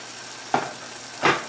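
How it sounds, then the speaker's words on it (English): A 14-ounce can of sauce poured into a hot pan over medium heat while making vegetable-filled mini stuffed peppers, giving two short bursts of sizzling hiss, one at the start and a louder one near the end, close by and with no talk. "now we're going to add a can of sauce"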